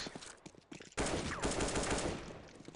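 Gunfire in Counter-Strike 1.6: a few light taps and steps, then a sudden loud burst of rapid automatic shots that keeps rattling to the end.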